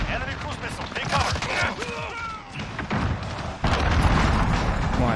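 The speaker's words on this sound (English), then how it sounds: "Enemy cruise missile, take cover." Enemy cruise missile strike in Call of Duty: Modern Warfare, heard as loud booming, thudding impacts and rumbling blasts in close succession, ending in a sustained heavy roar, with game sounds and voices mixed in.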